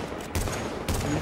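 Gold revolver sidearm fired in The Division, two sharp gunshots about half a second apart, loud and close against steady game background noise.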